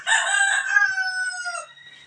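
A Minecraft rooster crows once, a loud, clear, drawn-out cock-a-doodle-doo that trails off, with nothing else around it.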